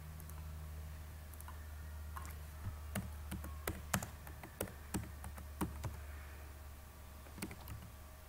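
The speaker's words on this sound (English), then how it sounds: "I'm just typing a message" A computer keyboard being typed on, an irregular run of soft key clicks in short bursts over a steady low hum, fairly quiet and close.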